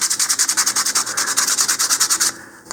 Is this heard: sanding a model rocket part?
yes